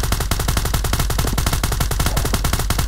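Rapid automatic gunfire from PUBG Mobile, a steady, loud stream of close shots in quick succession filling the whole stretch, no speech.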